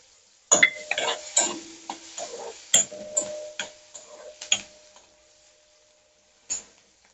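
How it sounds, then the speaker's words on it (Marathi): Potatoes stirred into roasted chillies in a pan, heard as a few scattered scrapes and light clatters with brief gaps, fairly quiet and close, ending with one short knock. "इथे मिरच्या भाजून झाल्यात आता आलू ऍड करून घेते याच्यामध्ये"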